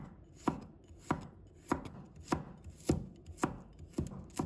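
A knife slices garlic cloves on a cutting board, giving eight crisp, evenly spaced chops close up with quiet pauses between them.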